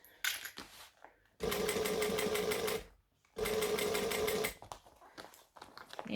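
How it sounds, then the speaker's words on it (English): A sewing machine stitches binding on a bag, an eighth inch from the edge, in two long steady bursts of fast rhythmic stitching with short pauses and handling noise between. "I'm going to stitch 1/8 inch from the edge of the binding"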